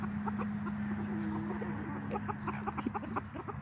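Young chickens and hens clucking in a small flock as a young bird scuffles with the hens, soft repeated clucks and chirps over a steady background hum, nearby and fairly quiet.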